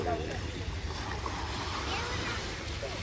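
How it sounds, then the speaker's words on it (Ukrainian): Sea waves wash onto a beach in Mallorca in a steady, continuous broadband rush with wind, with no distinct breaking crests. Muffled voices sound faintly underneath. "О, а тут чути морем"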